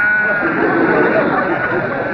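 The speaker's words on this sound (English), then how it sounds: "Will you take your sheep and your sheep's eyes and skedaddle?" Sheep bleating in a TV sitcom scene, a loud continuous wavering bleat from animals close by, with possible voices mixed in.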